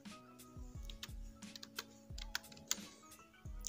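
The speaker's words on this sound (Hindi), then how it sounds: "उसके बाद हम उसमें टाइप करते हैं विन वर्ड" Keys on a computer keyboard are pressed in a light, irregular sequence of close, crisp clicks, typing a short command, with a faint low hum underneath and no speech.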